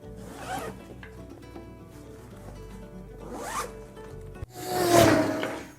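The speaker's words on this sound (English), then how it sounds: "there are zippers that run along the side of the front here to have complete open access" Side zippers running along the front of a hiking and EDC backpack are pulled open, making several loud, close rasping zip strokes, the final one longest and strongest, with no talking.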